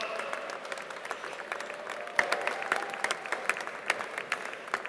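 A commencement audience applauds master's degree candidates from a college of computing, a fairly distant, moderately faint crowd clapping with individual sharp claps standing out, continuous throughout.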